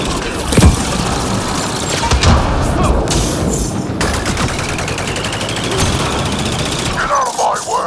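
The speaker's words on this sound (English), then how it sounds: "Shooting as fast as I can!" Rapid automatic gunfire in Mass Effect Andromeda rattles loud and continuous through the whole stretch, with heavy booms and combat noise mixed in and brief shouting near the end.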